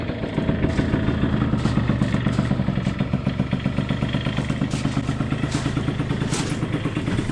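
Honda NH80 scooter engine idling up close, a rapid steady putter with an even rhythmic thump and light rattle throughout, no talking.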